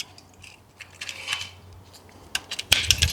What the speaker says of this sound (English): I think I am going to go ahead and put the stock on it real quick. Just a quick click.